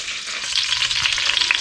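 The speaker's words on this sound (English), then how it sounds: "We're going to go ahead and brown 2 of the shanks" Beef shanks browning in hot rendered beef tallow in a cast iron pan, a steady loud close-up sizzle and crackle of frying fat with small popping accents, no voices.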